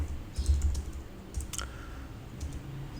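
Code being typed on a computer keyboard, quiet irregular key clicks at close range over a low background hum.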